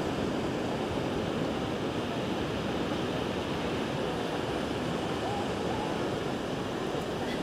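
Sea waves wash steadily onto the shore at a beach in Colima, Mexico, making a continuous, loud, broadband rushing roar with no distinct breaks. Wind noise mixes in throughout.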